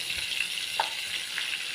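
Spices (turmeric, chili powder and a pinch of asafoetida) fry in hot oil while being mixed for a mango kootu, giving a soft, steady sizzle with faint stirring scrapes throughout.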